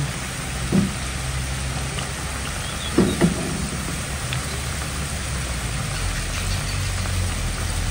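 Steady hiss of sweet potato fries frying in oil fills the clip, with a few brief clatters near the start and middle, no talking.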